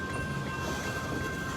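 A Norfolk Southern freight train with locomotive 4422 moves through a rail yard near Madisonville, Kentucky, heading to a coal mine. It makes a continuous rolling rumble with a faint steady tonal hum, fairly quiet and even throughout.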